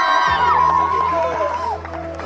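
A crowd cheering and whooping for the MAHADEV Strikers at a local tournament grand final, fairly close and lively, with shouts overlapping and a low steady hum underneath.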